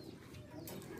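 Faint, soft cooing from kept Gola pigeons, a low murmuring warble that runs steadily through the whole short moment with no talk over it.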